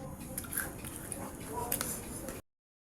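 Crunchy squash (kalabasa) vegetable chips are bitten and chewed close to the mic, giving crisp crackling bites under a steady background hum.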